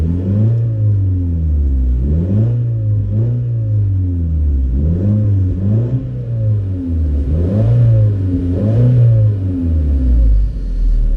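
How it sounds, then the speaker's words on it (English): A car engine revs repeatedly, rising and falling in about seven loud surges with a steady idle rumble between them. "I'll just rev the car a little bit"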